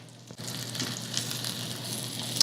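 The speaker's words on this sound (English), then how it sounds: "take this chicken, shake off the excess crud here, and lay it in there. And we're just gonna brown both sides." Chicken pieces browning in a hot frying pan give a steady, close sizzle with a soft thump as they go in, no talking.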